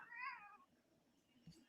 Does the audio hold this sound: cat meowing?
yes